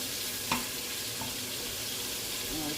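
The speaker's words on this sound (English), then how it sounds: "So I'm browning the meat now" Meat browning in a frying pan for a homemade soup with dumplings, giving a steady, close sizzle and crackle with a few sharper spits and stirring scrapes, no talking.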